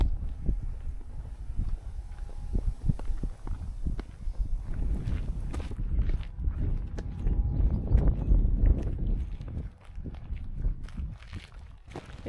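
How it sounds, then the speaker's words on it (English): Wind gusts buffet the microphone outdoors near a campsite, rumbling low and uneven throughout alongside footsteps on the ground. "a bit windy today"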